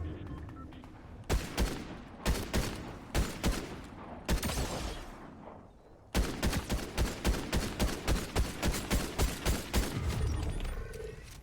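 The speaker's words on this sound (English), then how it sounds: "Oh, somebody's shooting." Gunfire in the video game Fortnite: sharp, loud shots crack out in uneven bursts, first sparse and then a rapid regular volley of about a dozen reports, over a low background bed with a voice faintly underneath.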